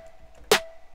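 Two trap snare drum samples layered into one hit, a sharp, bright crack that fades quickly over a quiet steady tone in an electronic festival trap production.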